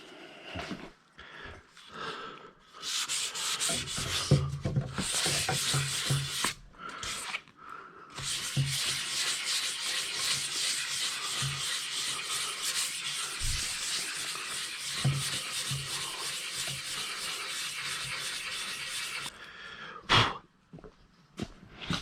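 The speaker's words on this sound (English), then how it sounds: "now it's sanding off the high spots of my glass" Fiberglass being sanded on a curved bike fender, knocking down high spots: a sustained, close, loud rasping scrub that runs for most of the stretch, with brief pauses near the start and end.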